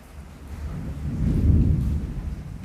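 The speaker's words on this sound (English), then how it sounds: "Listen to that thunder" Thunder rolls through a storm in a low, loud rumble that swells to a peak midway and slowly eases off, with rain noise steady underneath.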